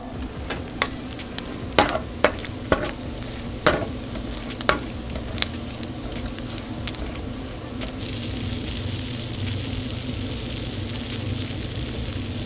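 Butcher Box bacon sizzles crisply in a pan, with a steady frying hiss punctuated by several sharp clinks and scrapes of a utensil stirring, close and clear with no talking.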